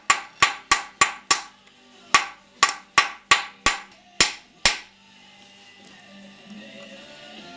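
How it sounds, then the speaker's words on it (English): Hammer strikes driving down a valve guide on a Ford flathead engine with basic hand tools: eleven sharp metallic blows in a quick, fairly even rhythm, each ringing briefly, then quiet shop ambience. "Next thing is hammer down your valve guide, just like this."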